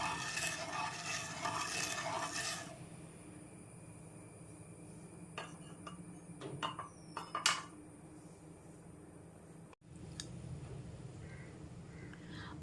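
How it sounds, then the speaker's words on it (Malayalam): A spoon scrapes and clinks against a pan while stirring sugar into boiling milk, in a handful of short, scattered taps, with a low steady hum behind it. "നമ്മൾ എടുത്തു വച്ചിരിക്കുന്ന പഞ്ചസാര ചേർത്ത് കൊടുക്കാം ഒന്ന് ഇളക്കി കൊടുക്കാം"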